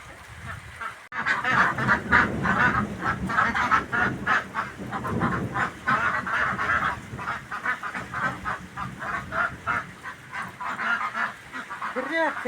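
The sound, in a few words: ducks quacking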